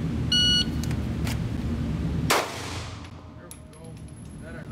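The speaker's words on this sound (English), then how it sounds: "So 1 shot, 7 yards in the target" A Taurus G2C pistol fires a single sharp loud shot at 7 yards after the high electronic beep of a shot timer, over steady outdoor background noise, and a faint ringing tone remains afterward.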